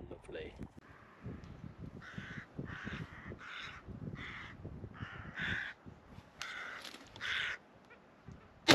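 Crows caw repeatedly as they fly into the wind toward a hedge backstop during a crow shoot, a series of distant, rough calls over rustling outdoor noise and faint talk.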